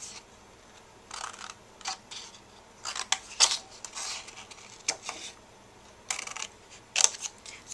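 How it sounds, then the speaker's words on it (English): A regular pair of scissors snips through paper while crafting party favors: quiet, close, scattered short cuts in irregular clusters with brief pauses between them. "I'm going to go ahead and cut that out with just a regular pair of scissors."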